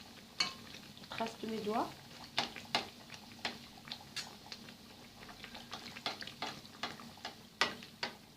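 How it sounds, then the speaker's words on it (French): Tunisian fricassé dough frying in hot oil, a soft continuous sizzle broken by scattered clinks and scraping stirs of a utensil against the pan, close and quiet, with a brief murmured voice early on. "Donc on va terminer de les frire comme ça."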